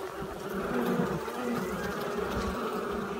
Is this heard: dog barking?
no